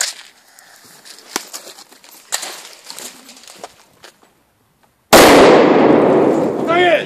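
A homemade airsoft grenade bursts with a sudden loud bang that cuts off a near-silent pause, then trails into a long hissing, crackling decay, following earlier scattered rustles and small pops.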